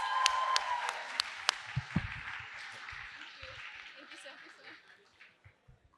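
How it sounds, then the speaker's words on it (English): Audience applause at a school alumni talk event, a moderate wash of clapping that gradually fades out, with a few sharp distinct claps early and scattered voices and light chatter over it. "Let's give them a huge round of applause."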